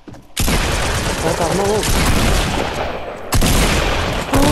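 Loud, continuous burst of video game gunfire with heavy fusillade and booms filling the whole stretch, briefly dropping before resuming, while a player speaks over it.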